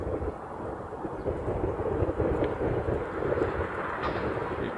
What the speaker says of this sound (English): There's the blue Dreamliner.